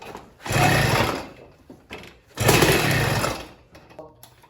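A two-stroke motorized bike engine with a performance ignition is cranked over twice in a bid to start it. Each pull gives a loud, close, sputtering burst lasting about a second, with quiet gaps between.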